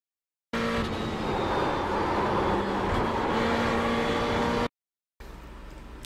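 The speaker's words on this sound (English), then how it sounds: "there is a shift from fifth down to fourth. You can hear it right there as it pings a little bit" A loud racing engine in the iRacing video game, at the Nürburgring Nordschleife, roars steadily at high revs, then cuts out abruptly on a downshift from fifth to fourth; after a short gap a quieter engine drone resumes.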